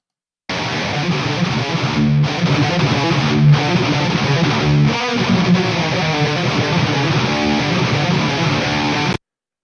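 Heavily distorted metal guitars chug loud and thick over a deep low end, playing a steady riff with a few brief stops.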